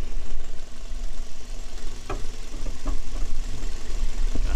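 Steady rumble of a Toyota Vios ex-taxi engine idling nearby, with a few sharp ticking knocks breaking through the low hum.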